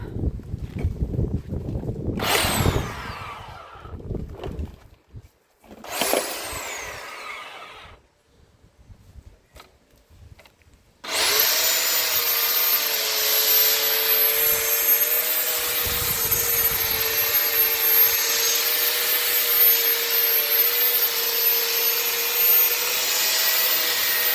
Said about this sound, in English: I'm going to get the chainsaw out and see how we get on.